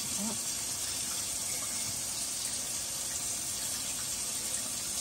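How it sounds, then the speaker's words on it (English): Tap water runs steadily at a sink while arms are washed, a continuous close gushing hiss filling the whole stretch with faint splashes and no talk. "I want to wash up my arms too."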